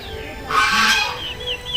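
Geese and goslings give a short burst of honking calls lasting under a second, near and fairly clear, amid low background noise.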